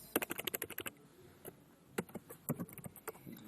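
Computer keyboard keys clatter in quick bursts while Python code is typed, with a short pause before a few more scattered, close-up keystrokes.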